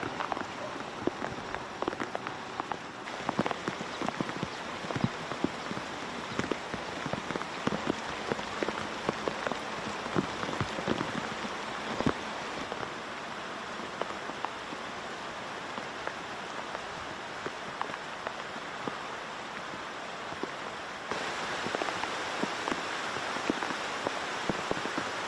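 Heavy downpour during a storm, a steady dense hiss of rain pounding on surfaces that stays loud and unbroken throughout, with no voices.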